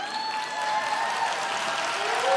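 A church congregation applauds its fathers in a dense, steady round of clapping that stays even and loud throughout, with a faint tone ringing through the room.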